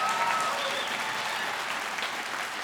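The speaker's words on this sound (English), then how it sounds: "I'd like to give a little round of applause for Simon Lewis," An audience claps warmly in a dense, even wash of applause for a pianist at a live television show, steady and fairly loud for a couple of seconds.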